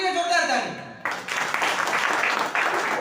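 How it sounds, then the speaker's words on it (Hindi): Audience applause at an MMPL Network business seminar, a dense broadband clatter of many hands starting abruptly after a second of speech and continuing steadily, fairly loud. "आपके लिए जोरदार ताली।"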